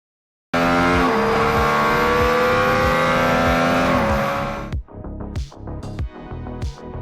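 A supercharged V8 Corvette, the most powerful street-legal version, launches hard with a loud, rising engine roar through quick gear changes. It then fades into fainter engine bursts.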